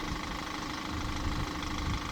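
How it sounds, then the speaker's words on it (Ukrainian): The engine of a Renault Master van runs steadily at idle with an even, continuous hum and no break, picked up at a moderate, fairly quiet level with no one talking. "Мотор в даний момент працює"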